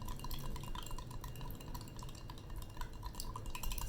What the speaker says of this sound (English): Stir this vigorously.